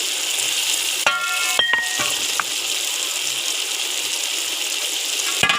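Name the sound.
tomatoes frying in a pan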